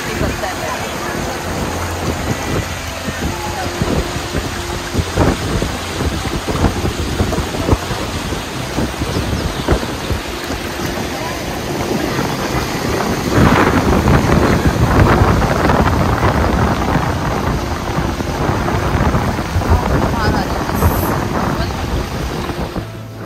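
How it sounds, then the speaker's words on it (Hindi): A fast-flowing river at Rishikesh rushes loudly and continuously, a dense roaring wash of water that swells about midway, with voices talking at times underneath. "पानी का ना बहाव बहुत तेज़ है"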